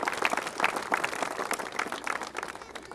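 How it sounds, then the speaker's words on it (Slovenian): Short, moderately quiet applause from an outdoor crowd at a park opening follows a children's dance performance, with scattered individual claps audible in the mix. "zaslužijo si še en aplavz"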